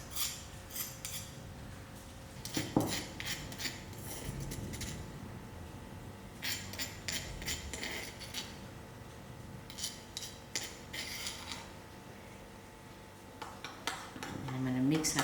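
A metal utensil scrapes and clinks against a bowl as garlic is worked into butter, in bursts of rhythmic stirring with pauses between, close by and moderately loud.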